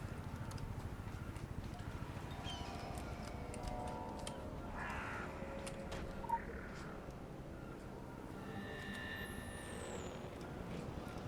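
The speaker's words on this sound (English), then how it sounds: "Seagull sounds." Seagull cries in the fantasy video game Secret World Legends, a few faint calls over a low ambient rumble with soft in-game noises.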